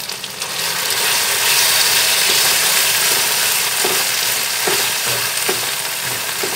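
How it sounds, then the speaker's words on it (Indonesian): Ground spice paste sautéing in a little hot oil for an Indonesian stir-fry, a loud, dense, continuous sizzle close by with a few spatula scrapes and clicks toward the end, no speech. "Langsung kita tumis bumbu yang tadi kita haluskan."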